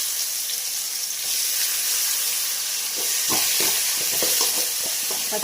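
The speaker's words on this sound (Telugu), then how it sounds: "పచ్చివాసన పోయే వరకు కొంచెం వేపాలి" Ginger, garlic, onion and tomato paste fries in a pan for a small-fish tamarind curry, giving a steady close sizzle with sharper crackles and stirring scrapes through the second half.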